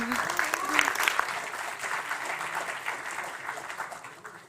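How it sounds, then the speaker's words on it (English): Audience applause at an academic symposium following a speaker's introduction, a steady wash of many hands clapping throughout, loud at first and gradually fading toward the end. "So welcome and a big applause."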